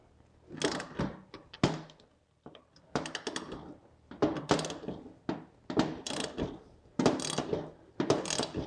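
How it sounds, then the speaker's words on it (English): A screwdriver grinds and clicks as it works a stripped bolt out of a car engine's aluminum thread, in short bursts of scraping and ratcheting separated by brief pauses, close up. "we'll put that down and use a screwdriver"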